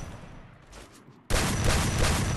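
Gunfire in a mobile battle-royale shooter game, a sudden dense burst of rapid shots breaking in after quieter game ambience, loud and continuous to the end.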